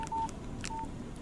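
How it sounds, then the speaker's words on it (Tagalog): A mobile phone keypad gives two short electronic beeps about half a second apart, faint and alone against quiet room noise, with soft button clicks between them. "Kaya malayo kong matitingnan ang mga messages dito sa cellphone ni Maxine."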